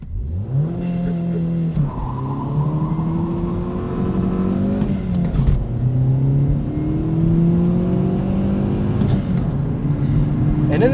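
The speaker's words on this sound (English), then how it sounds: "So this will now control the revs, and all I've got to do is work the clutch." A 2009 Chevrolet Cobalt SS Turbo hatchback accelerates hard using launch control, its engine climbing through rising revs with several gear-change drops, loud and close from inside the car.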